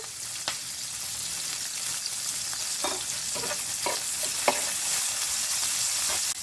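Chopped onions sizzling and frying in hot oil with garlic and ginger, a steady crackling hiss with occasional stirring scrapes, close by and with no talking.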